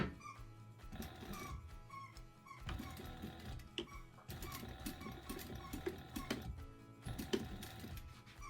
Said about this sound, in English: we're going to sew right here along the edge.